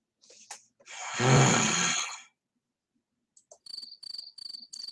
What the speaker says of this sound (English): Shut up, Cricket